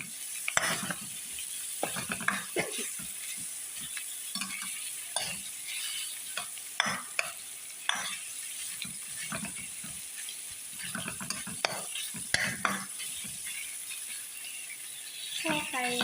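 Chicken stir-fried in a pan makes repeated scraping, clattering stirs over a continuous sizzle, irregular spatula strikes rising and falling close up for the whole stretch.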